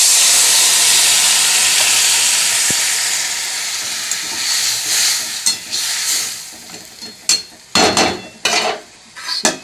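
Water poured into a hot cooking pot while preparing a home lunch, giving a loud steady sizzle and steam hiss that fades, then breaks into sharp bursts of crackling spatter near the end.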